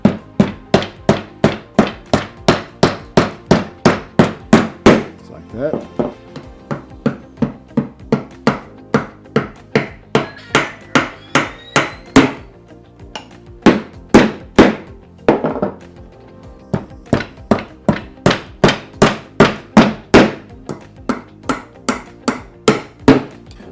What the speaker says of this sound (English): we put a nail in the top and the bottom